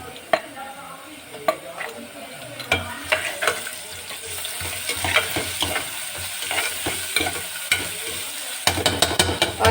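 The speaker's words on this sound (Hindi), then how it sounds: "अब हम इसके अंदर डालते हैं लहसुन अदरक का पेस्ट" Garlic ginger paste and browned onions sizzle steadily in a hot pan while a spoon stirs and scrapes, with sharp clicks of utensil against metal throughout.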